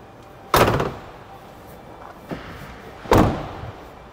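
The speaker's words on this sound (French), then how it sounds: "Je referme les portes." Doors of a Hymer Free 540 camper van are shut, two loud close thuds a few seconds apart with a softer knock between them, recorded close by outdoors.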